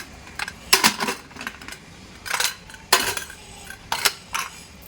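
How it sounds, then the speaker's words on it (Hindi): Metal lid of a pressure cooker being fitted and closed while cooking mutton, heard as several sharp clanks and clatters in separate bursts, close and fairly loud with quiet gaps between. "बस अब इसको हम कुकर का ढक्कन बंद करते हैं"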